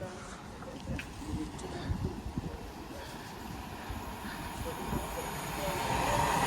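A Pendolino train approaches at Lichfield Trent Valley, a low rumble building steadily louder toward the end, with faint voices over the top.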